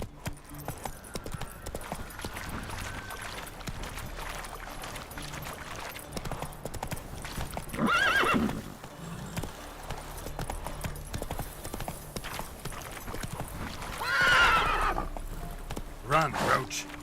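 Roach, a horse in the video game Witcher 3, gallops with steady rhythmic clip-clopping hoofbeats and lets out two loud whinnies partway through, with other game sounds in the background.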